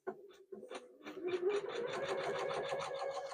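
Embroidery sewing machine stitching a placement line for an in-the-hoop wall hanging, starting with a few separate stitches and then running into a fast, steady mechanical rattle, close and fairly quiet.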